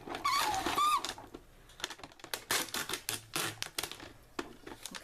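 A Xyron sticker maker with a broken handle feeding paper through, heard as an opening squeal followed by a rapid run of close, dry clicking and ratcheting taps, with no talking.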